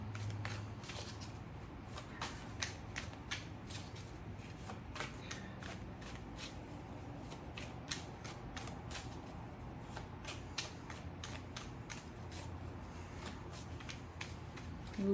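Tarot cards shuffled by hand in a steady run of soft riffling flicks and slaps, close and fairly quiet, with no talking over it.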